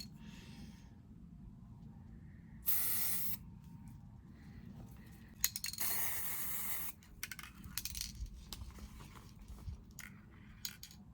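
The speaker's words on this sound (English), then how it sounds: "You got spray painted red too." Two sharp hissing bursts from a spray can of red paint on a garden flagpole, the second longer, amid quiet scraping and faint clinks.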